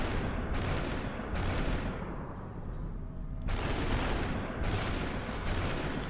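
Sustained automatic gunfire from an assault rifle in the video game Superhot, loud and continuous, with dense bursts that cut out briefly partway through before resuming.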